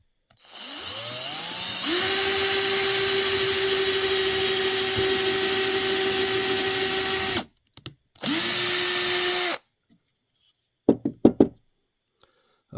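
A small power drill with a small bit drills a pilot hole in wood, whining at a steady high pitch for several seconds, stops, then runs briefly again, followed by a few light knocks.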